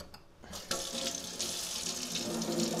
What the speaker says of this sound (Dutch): Zo wat lauw water.